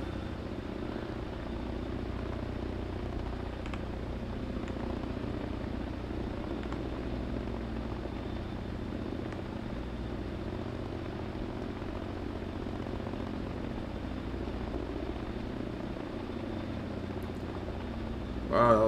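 Steady, droning rotor and engine noise from a CH-47 Chinook twin-rotor helicopter in the Second Life virtual world, holding level throughout as it comes in to land on a runway, with no voices.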